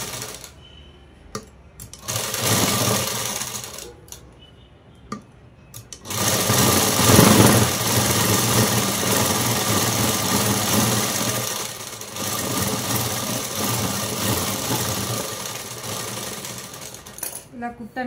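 Sewing machine stitching the sleeves of a jacket, a steady fast mechanical rattle running in long loud stretches with brief pauses, a voice talking over it.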